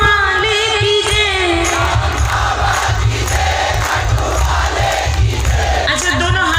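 A large devotional crowd chants Shyam Baba ki jai, a loud, dense roar of many voices that holds steady throughout. Claps are not clearly picked out within the chant.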